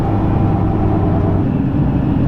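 An L5P Duramax truck fitted with an S369SXE turbo accelerates under load, giving a loud, steady low engine drone with no breaks.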